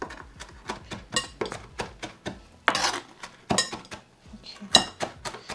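A utensil clinks and scrapes against a bowl while tabbouleh herbs are stirred, a rapid irregular run of sharp knocks close by, with a few louder clanks mixed in.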